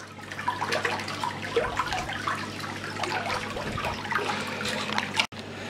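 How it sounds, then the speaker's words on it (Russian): An Aqua NoVa N-RMC 5000 lift pump running at full power pushes water up about 40 cm, making a steady, close splashing trickle that runs unbroken, with a brief cut near the end. "вот на какую высоту поднимает воду помпа в 40 сантиметрах"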